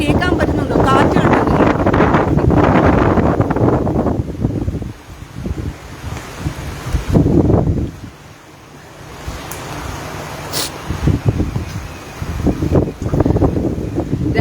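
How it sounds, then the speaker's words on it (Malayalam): Strong cold wind blasts into the microphone in heavy roaring gusts that rise and drop, at times overwhelming everything, with a person talking at moments in between. "അതികഠിനമായ കാറ്റ് വീശുകയാണ് ഇവിടെ."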